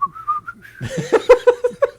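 A person whistles a short, bouncy melody, a few soft notes first, then louder, quicker staccato notes close to the listener.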